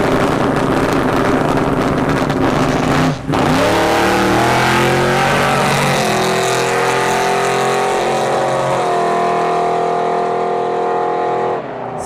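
A G-Body car makes a solo drag racing run at a dragstrip test and tune, its engine revving loud and close, a brief gap near the start, then shifting up through sustained high-rpm roars.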